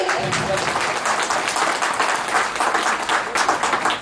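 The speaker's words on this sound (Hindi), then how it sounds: "जोरदार तालियां बजाइए" Loud, dense applause from a large audience at a local community event, continuous clapping sustained throughout with faint voices beneath.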